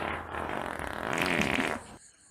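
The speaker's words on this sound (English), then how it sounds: "You've been farting a lot at the house lately." A loud, sustained fart lasting about two seconds in a quiet room, rising in strength toward the end before cutting off abruptly.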